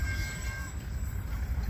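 A train passing nearby, heard as a steady low rumble with a faint high tonal whine, loud and continuous for the whole moment.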